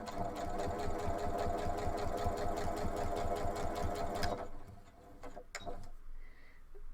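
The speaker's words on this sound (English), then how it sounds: "align the white plastic guide with the fabric edge. And just start sewing." A sewing machine runs fast and steady, stitching fabric along a white plastic edge guide with a quick, even mechanical rattle, then stops, leaving a few faint clicks and handling sounds.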